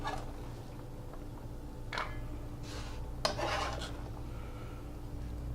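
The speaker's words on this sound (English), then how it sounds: "that little rolling motion I'm making with that knife, as much a roll as a slice" A knife slicing with a rolling forward motion on a cutting board, making a few soft, brief rasping strokes over a steady low hum, close and quiet.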